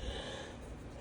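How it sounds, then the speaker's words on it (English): A single drawn-out human yawn with a breathy gasping quality, close to the microphone and heard alone without speech for about a second. "That yawn came out of nowhere."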